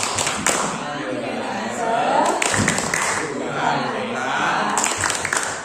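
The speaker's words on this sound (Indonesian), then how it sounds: "mari kita bersama-sama tepuk dora" A group of adults joins in the tepuk dora clapping routine during a teachers' workshop session: rhythmic claps and thumps mixed with chanting voices, moderately loud and continuous over a noisy room.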